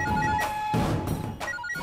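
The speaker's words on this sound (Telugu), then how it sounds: "రింగ్ అవుతున్నా లిఫ్ట్ చేయడం లేదు?" A telephone rings and goes unanswered, a steady tonal ring repeating under a busy, dramatic background for under two seconds.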